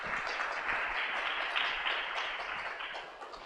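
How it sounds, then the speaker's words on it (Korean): An audience at a lecture in Pohang gives a round of applause: soft, fairly distant clapping that keeps up steadily for a few seconds before easing off slightly. "감사의 박수 드리겠습니다."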